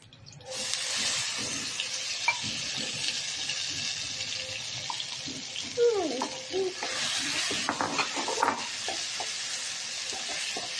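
Corn paste sizzles in ghee in a pan while being stirred for corn laddoos. A steady, fairly close frying hiss runs throughout, with scrapes and a brief burst of stirring partway through.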